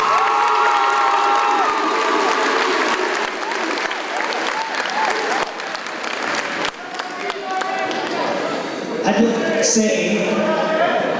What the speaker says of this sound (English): let's, again, give them a big round of applause